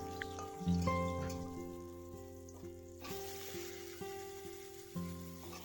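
Potatoes and taro sizzle in oil left over from frying fish, a steady close crackle with soft stirring and faint background tones throughout.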